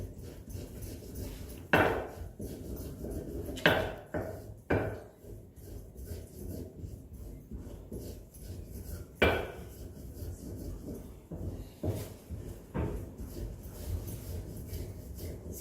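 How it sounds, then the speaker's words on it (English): Cacao and sugar being stirred together in a bowl on a Monteverde, Costa Rica coffee farm: quiet scraping and a few sharp clinks and knocks of utensil against the bowl at uneven intervals, with no voices. "So here is just mixing the cacao and the sugar."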